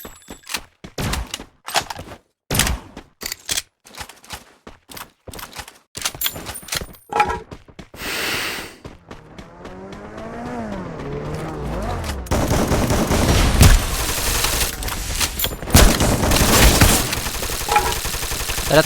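Gunfire in a battle royale video game tournament grand final, sharp rapid bursts and single shots in quick succession, then dense sustained automatic fire with overlapping weapons and explosions, loud and close.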